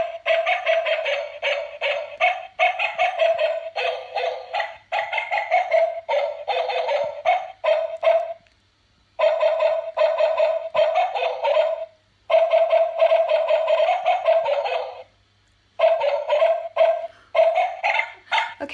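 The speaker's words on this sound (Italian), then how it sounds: "qui ci sono i cani che abbaiano ed è fortissima" A Christmas decoration plays recorded dogs barking in quick rhythmic bursts, loud and close, with short pauses between the runs of barks and no talking over it.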